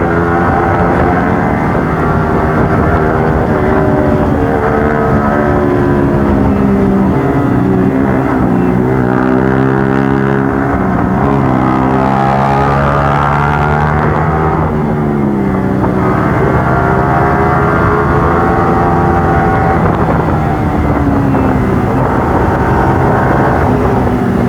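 Loud, continuous motorcycle exhaust roars from a Hyper bike cornering at high speed on hill roads, the engine note rising and falling steadily through the bends with no pauses.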